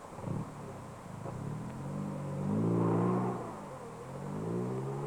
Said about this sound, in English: The force of the motor is moving the car now.